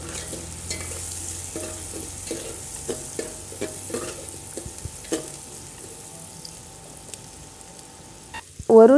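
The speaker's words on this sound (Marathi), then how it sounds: "आता ह्यामध्ये आपण बटर टाकूया, 1 चमचा जिरे आणि कांदा टाकून हलवून घेऊया." Chopped onion and cumin seeds fry in butter and oil inside a pressure cooker, giving a steady close sizzle with repeated scraping stirs of a spoon, then a sharp loud clatter at the very end.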